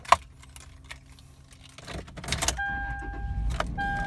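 Keys jangle near the start, then a 2003 Toyota 4Runner with a 4.0L V6 cranks and starts, settling into a low idle while steady electronic chime tones sound inside the cabin.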